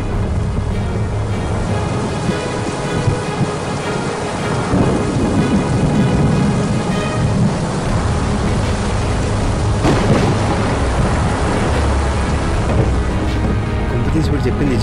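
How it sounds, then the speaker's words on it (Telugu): Heavy rain pours steadily while thunder rumbles loudly through the storm, the downpour continuous and close throughout. "వర్షం పడుతున్నట్టుంది."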